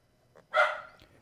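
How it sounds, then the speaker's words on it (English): A single dog bark rings out once, fairly close but brief, in a quiet room with no talking. "If you can hear that barking, that's my dog."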